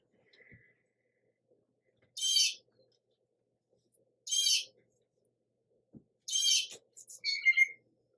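Blue jays calling in a backyard: three harsh, raucous screeches spaced a couple of seconds apart, then a quicker cluster of shorter calls, fairly close against a quiet background.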